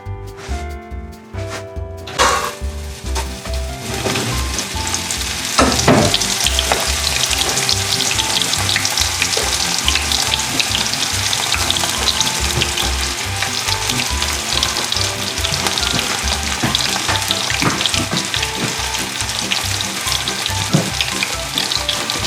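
Food fries steadily in a pan over a low to medium-low gas flame, giving a loud continuous close sizzle with crackling pops and occasional stirring scrapes, after a few seconds of clatter at the start.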